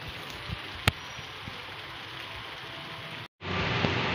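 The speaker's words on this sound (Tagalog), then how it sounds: "Sobrang lakas ng ulan mga idol." Heavy rain from Typhoon Odette pours down in a steady, dense hiss with scattered louder drops, broken by a brief dropout before the downpour resumes.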